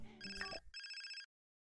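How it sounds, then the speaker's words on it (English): A phone rings in a video game with a short electronic ringtone of bright, repeated tones. Two close bursts ring out clearly, then cut to silence. "His phone's ringing."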